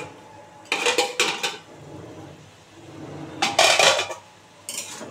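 A metal lid clanks onto a cooking pan on a gas stove, then is lifted off with more clattering, while hilsa fish cooks inside. The metal knocks come in two close bursts with quiet gaps between.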